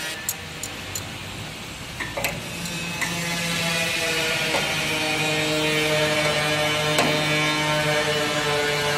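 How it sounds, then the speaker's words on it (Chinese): Screws being tightened on a chain link fence machine, giving sharp metallic ticks and ratcheting clicks, sparse at first and then over a steady mechanical hum, close up with no talking. "调整完之后紧上螺丝"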